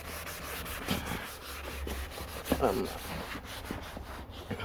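A car headlight lens is scrubbed by hand with Ajax cleanser in a parking lot, giving a steady, close, gritty rubbing with rhythmic back-and-forth strokes that swell and fade, while someone talks over it.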